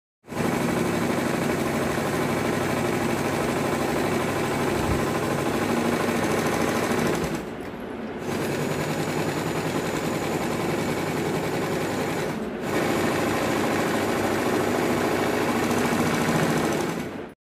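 A sewing machine runs top-stitching on blouse cloth, a loud steady whirring buzz in three long bursts separated by two brief pauses.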